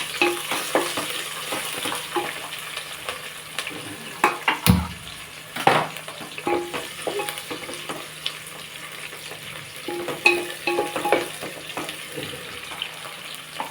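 Green chillies and onions fry in a pan, giving a steady, close sizzle with frequent stirring scrapes and clinks of a utensil against the pan throughout.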